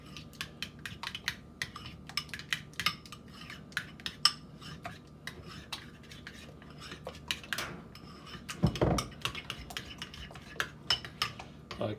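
Ingredients for honey walnut prawns mixed in a bowl with a utensil, a steady run of close, sharp clicks and scrapes of metal on dish, irregular in rhythm, with a brief louder clatter near the end.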